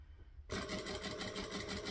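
A sewing machine starting up abruptly after a quiet moment and stitching piping onto a pocket, a fast even mechanical whirr and rapid needle clatter, close and moderately quiet.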